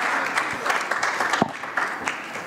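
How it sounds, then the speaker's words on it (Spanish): A press-conference audience claps for a couple of seconds in a send-off for Eurovision singers, a steady dense patter of hands with a few sharper individual claps over a room murmur. "¡Aplauso!"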